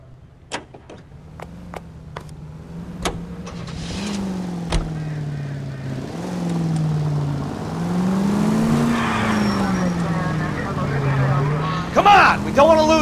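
Car driven in L.A. Noire, its engine humming and rising and falling in pitch as it speeds up, with tire squeals and bumps toward the end and a voice talking briefly over the start.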